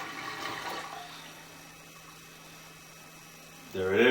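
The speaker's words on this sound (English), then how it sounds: "Flushing the paper towel now." A toilet flushes with a paper towel in the bowl, a sudden close rush of water arriving at the very end after a quiet stretch of steady electrical hum.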